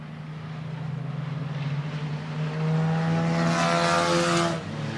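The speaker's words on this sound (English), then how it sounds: "Around 16 cars left running on the track out here." Race cars lap a speedway track during the Evil Elf and Bad Santa enduro at Kalamazoo Speedway, with about sixteen cars still running. Engines drone steadily from a distance, and a louder car roars past in the middle before fading.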